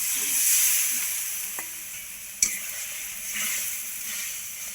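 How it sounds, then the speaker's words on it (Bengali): Water poured into a pan of frying fish head for a Bengali muri ghonto, a bright hissing sizzle that swells and fades, with a sharp clank of utensil midway. "একটু জল দিচ্ছি"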